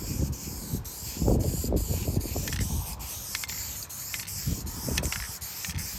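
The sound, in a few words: spray coat being applied to pinball back glass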